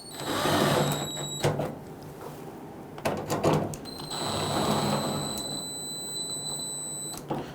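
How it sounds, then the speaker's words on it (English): A powered driver tightens bolts on a Toyota Tundra tailgate handle, whirring in two high-pitched runs separated by short clicks and handling noises, all close by. "You want to gently snug those down."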